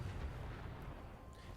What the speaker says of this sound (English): That was a violent explosion that set the truck off from all the way back there